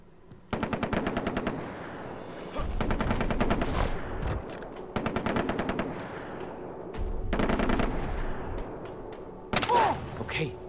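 Rapid machine-gun bursts in the Far Cry 3 video game, loud close rattling volleys in several long strings separated by short pauses, with a speaking voice partly heard.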